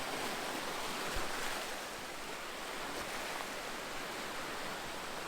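Ocean waves wash at the shoreline in Far North Queensland as a soft, continuous, fairly distant surf hiss. No one speaks.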